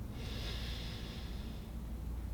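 A steady, slow inhale through the nose during a yoga stretch, close and airy, a single continuous breath with no talking.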